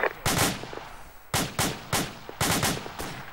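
Repeated loud, sharp weapon blasts during a military field training exercise, fired in two quick clusters of three with brief decaying tails between them and no talk.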